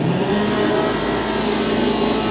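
A Mercedes C-Class Estate with a suspected gearbox fault revs steadily, a loud, continuous mid-pitched engine drone held close by throughout.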